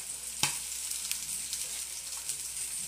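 Poultry frying in a pan for a balsamic chicken salad, a steady close sizzle with a sharp clack of a utensil near the start and small spatters throughout.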